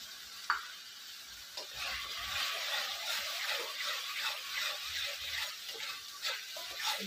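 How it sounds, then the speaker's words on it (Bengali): Mustard and poppy seed paste added to hot oil with fried onions sizzles steadily in the pan, a bright continuous hiss broken by occasional scraping stirs, with no talking. "পেঁয়াজটা ভাজতে ভাজতে তেল ছেড়ে দিয়েছি মতো, এবার আমি সরষা পোস্ত বাটাটা দিয়ে দিলাম"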